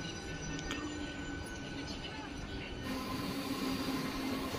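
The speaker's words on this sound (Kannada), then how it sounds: "ಬೆಂಗಳೂರು ಕಂಟೋನ್ಮೆಂಟ್ ರೈಲ್ವೆ ಸ್ಟೇಷನಿಂದ ಹೊರಟಿದೆ ನಮ್ಮ ಟ್ರೈನು" A MEMU passenger train pulls out of Bangalore Cantonment railway station, a steady rumbling rolling noise with faint high whine and a constant electrical hum throughout, close and even in level.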